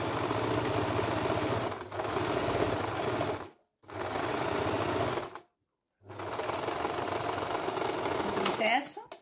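A sewing machine stitches a French seam on a cloth eco bag, a steady mechanical whirr in three runs separated by short silent pauses, with a voice speaking over it.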